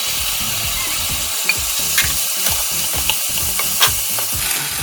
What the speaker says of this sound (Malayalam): ഇനി ചിക്കൻ ഇട്ട് ഇളക്കാം